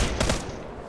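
Gunfire in the Arma 3 military game, a short burst of dense shots with a heavy low thump, loud and close, less than a second long.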